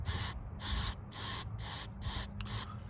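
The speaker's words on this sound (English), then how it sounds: "So I'm just going to shoot a little contact cleaner in there," Contact cleaner is sprayed into the coil pack connectors of a car engine in six short, close hissing bursts at an even pace, with no one talking.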